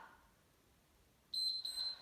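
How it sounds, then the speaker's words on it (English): A workout timer sounds a bright electronic beep partway through, a sustained high tone with a brief dip, loud and clear after a quiet stretch without talk. "We'll hear the beep and know when to stop."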